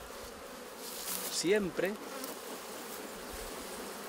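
Honey bees buzz around an opened beehive during an inspection in montane cloud forest, a steady close drone with one bee sweeping loudly past mid-clip; a brief spoken word is heard.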